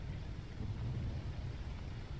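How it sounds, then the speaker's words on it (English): Rain and thunder ambience in the video game STALKER, a steady low rumbling wash of rainfall with a deep thunder roll, moderately quiet and continuous with no voices. "the comfy rain sounds are making me a little bit sleepy"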